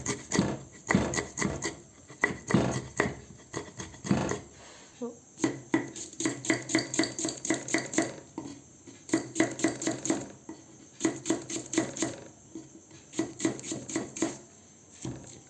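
Fresh ginger being finely chopped with a knife on a cutting board, heard as fast, rhythmic knife taps in repeated bursts with brief pauses, close and fairly loud.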